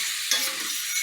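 Garlic and sliced fresh jalapenos are stirred in a hot pan, giving a steady close sizzle with a brief scraping stir near the start.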